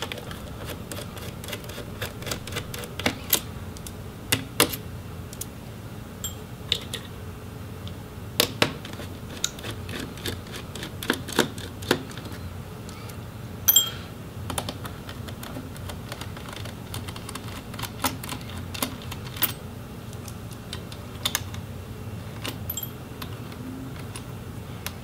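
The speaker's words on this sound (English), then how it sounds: "I'm just gonna finish removing the screws for the motherboard" A screwdriver works the motherboard screws out of an Alienware 17 R4 laptop, with soft scattered ticks and sharp clicks at close range across a quiet background, irregularly spaced.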